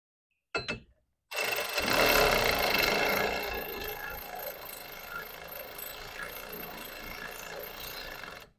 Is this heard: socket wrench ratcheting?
yes